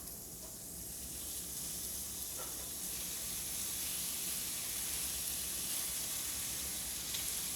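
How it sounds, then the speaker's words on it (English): Steady, close sizzling and hissing of cumin-spiced pork and onion frying in a hot pan, continuous and even throughout with no talking. "It sizzles."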